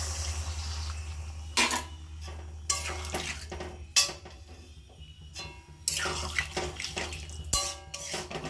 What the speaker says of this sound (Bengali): এবার মশলা ধোয়া জলটা দিয়ে দিচ্ছি।